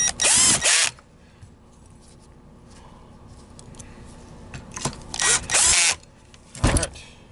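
A power driver whirs in short loud bursts as three large screws are driven into a Kirby Sentria Avalir G3-G10 vacuum transmission, with quiet handling noises between the bursts and no voices.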